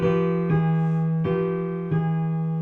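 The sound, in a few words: dominant trichord chord resolved with a Phrygian resolution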